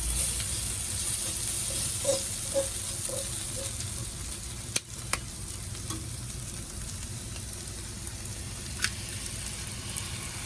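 Potatoes frying in a pan for a simple chow mein with egg, giving a steady, close sizzle with some stirring and a few sharp clicks of utensils against the pan, without talk.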